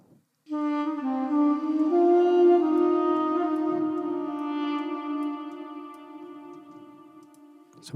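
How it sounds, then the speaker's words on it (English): A synthesized neurofunk intro tone sustains as a rich, buzzing harmonic drone, washed in a very long reverb tail and compressed so it stays dense and even as it slowly fades over several seconds. "So we get that really long reverb."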